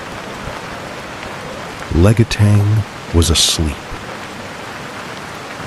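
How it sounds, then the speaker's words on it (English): Heavy rain falls at night in Legetang, Indonesia, a constant dense hiss throughout, with a narrator speaking briefly over it in the middle. "For hours, the rain had fallen without pause."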